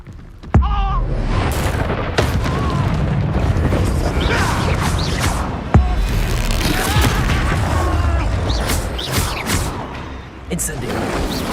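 An Expulso spell explosion in Hogwarts Legacy bursts with a sudden boom, followed by crashing debris and rumbling combat noise, and a second sharp blast comes a few seconds later, loud and dense amid other game sounds and voices.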